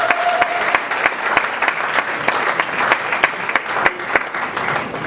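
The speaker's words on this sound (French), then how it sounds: "Est-ce qu'on peut applaudir très fort?" Loud, sustained applause from an audience at a Congolese awards ceremony, Trophée Kongo, with dense clapping running steadily throughout and a few sharper claps standing out.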